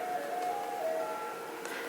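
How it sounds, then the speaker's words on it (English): A faint, tinkling melodic jingle from an ice cream truck drifts in from a distance, thin and steady for a couple of seconds, heard alone without talk. "Ice cream truck."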